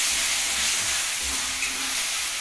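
Water hits spices frying in a pan with salt and turmeric, giving a loud continuous hissing sizzle that stays steady throughout, close up and with no voices.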